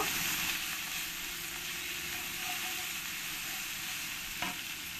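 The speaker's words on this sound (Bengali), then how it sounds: "এবার এর মধ্যে দিয়ে দেবো 1 চামচ লবণ আর 1 চামচ হলুদ। ভালো করে একবার মিশিয়ে নেব।" Mutton curry with salt and turmeric is stirred in a hot pot, giving a steady, even frying hiss with soft scraping throughout and one brief clink near the end.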